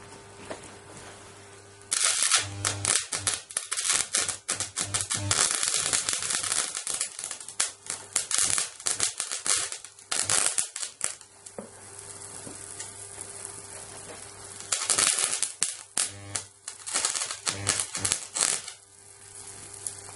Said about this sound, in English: So let's short it out some more.